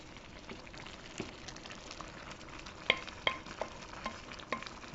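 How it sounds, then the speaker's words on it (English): Hungarian stuffed cabbage simmering on a stove, stirred in the pot. Faint constant sizzle and bubbling, with a few soft scraping clicks of the spoon toward the end, no speech. "now we switch up our stove because it's still cooking. I can mix it a bit."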